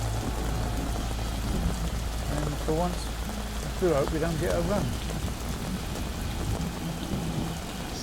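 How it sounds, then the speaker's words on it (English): Heavy torrential rain pours steadily beside a carp fishing lake during a thunderstorm, a dense constant hiss with low rumbling underneath, while someone talks over it. "Sky's open, thunder and lightning,"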